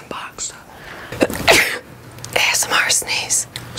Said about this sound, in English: ASMR sneeze.